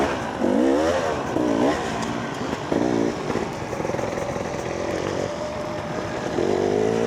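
A motorcycle rides along, its engine note rising and falling in repeated revving surges over a steady rumble with some clattering, heard from close by.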